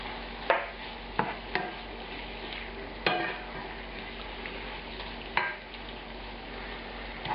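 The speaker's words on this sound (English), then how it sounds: "Now I'm going to add these tomatoes back in finally. And the red wine vinegar." Onions cooking in a pan sizzle steadily as tomatoes and red wine vinegar are added, with several sharp utensil clicks and scrapes from stirring.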